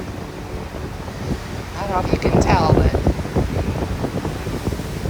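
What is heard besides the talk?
ocean waves heard from a cruise ship at sea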